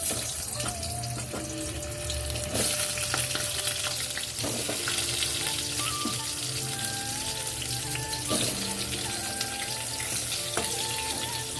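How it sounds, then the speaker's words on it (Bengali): Potatoes fry in a pan with a steady sizzle, mixed with running tap water and clinks of dishes being washed and stirred nearby. "আলু ভাজা হয়ে গেছে"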